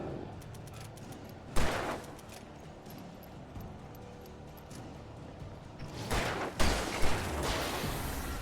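Gunfire in the Alan Wake video game, with two loud shots about five seconds apart and a short burst of shots near the end, all over a low, steady background.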